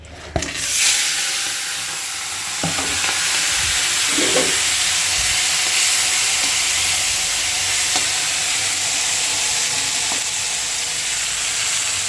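Prawns coated in salt and turmeric frying in very hot oil, a loud, steady sizzle and hiss running the whole time, with a few sharp crackles and stirring scrapes near the start.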